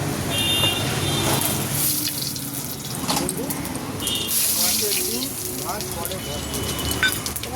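Spices sizzling in hot oil for tempering a light vegetarian curry, a steady broadband frying hiss running throughout, close and fairly loud, with occasional crackles and faint kitchen clatter.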